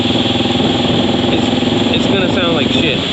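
An XR650L motorcycle idles with a loud exhaust whose packing has worn out, giving a close, steady, pulsing throb while someone talks over it.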